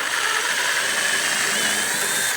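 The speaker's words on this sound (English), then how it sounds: "Using a 10mm socket, we're going to remove the 3 bolts for the headlight." A power tool spins a 10mm socket to remove headlight bolts on a 2011-or-later Dodge Durango, a steady close whir that holds evenly for a couple of seconds before cutting off.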